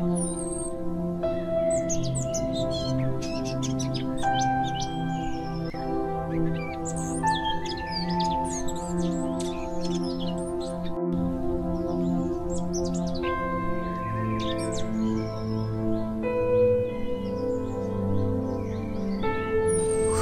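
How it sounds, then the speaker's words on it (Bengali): Many birds chirp and sing through a quiet green park, with overlapping tweets and melodic calls layered over a steady, fairly loud backdrop of sustained tonal notes. "নিস্তব্ধ সবুজের মাঝে কান পেতে শুনুন পাখির কলতান।"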